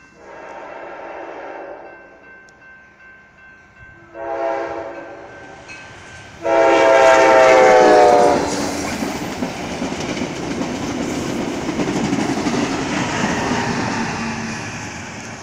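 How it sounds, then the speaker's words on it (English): Amtrak Talgo train southbound on main track, opening with short horn blasts that grow louder, then a long, loud horn as it nears, followed by the heavy rolling roar of the passing cars. "Train coming."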